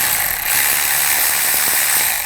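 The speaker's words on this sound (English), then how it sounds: "And take your 11mm socket." A ratchet turning an 11mm socket on a brake hose fitting on a 1999-2007 Chevy Silverado 2500, giving a steady close mechanical clicking that runs throughout with no talk.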